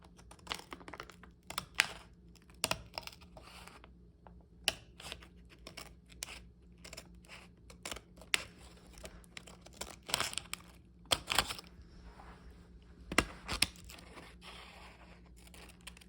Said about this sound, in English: after we cut our leather